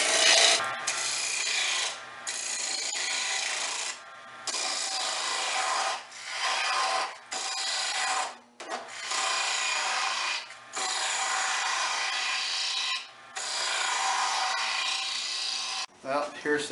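A wooden block spun on a small lathe while a tool cuts it to final dimension gives a loud, harsh, steady rasping scrape in long bursts, broken by short pauses as the cut is repeated.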